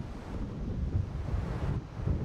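Waves and wind at a lake in the video game Alan Wake: a steady, dense low roar of wind and water washing continuously without a break.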